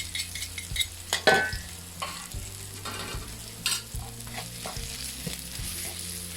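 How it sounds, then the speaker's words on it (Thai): Shrimp paste stir-fried with chili and garlic over medium heat sizzles in the pan, with busy scraping and tapping of a spatula in an uneven stirring rhythm, close and clear. "เราจะผัดกะปิไปกับพริกกระเทียมเลยนะคะ"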